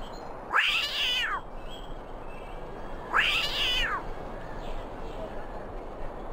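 Two clear cat meows sound a few seconds apart in Disney's Mulan animated storybook game on PS1, each a rising-then-falling cry over a soft, steady game background.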